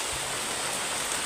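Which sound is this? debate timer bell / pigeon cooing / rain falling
rain falling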